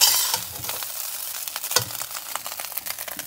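Burned garlic rice with eggs and spices is stirred in a hot pan, with close, repeated scraping and tossing strokes over a soft, continuous sizzle.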